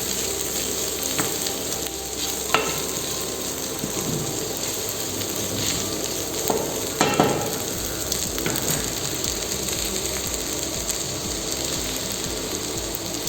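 Spicy Thai-style noodles cooking in a pan, a steady low sizzle and hiss throughout, with a few faint scrapes and clicks near the start and middle.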